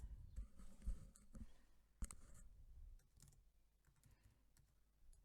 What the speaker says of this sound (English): I'm just typing like I normally would